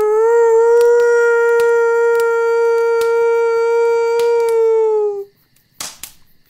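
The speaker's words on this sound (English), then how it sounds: "The howl echoes throughout the kitchen in a high-pitched tone, filled with joy and happiness" A wolf-like character lets out one long, clear, high-pitched howl in a kitchen, held steady for about five seconds before cutting off, followed by a couple of short sharp clicks.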